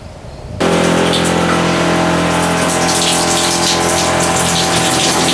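A RinseKit portable shower kicks on abruptly after a short quiet start, then runs as a loud, steady spray of water with a constant pump hum, close by and with no talking.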